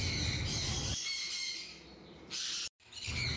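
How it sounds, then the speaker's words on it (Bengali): Blue yellow-sided conure and blue green-cheek conure parrots calling close by, with a dense run of shrill chattering calls, a brief quieter gap, then more loud squawking. "একটা ব্লু ইয়েলো সাইড আর একটা ব্লু গ্রিনচি কনুর"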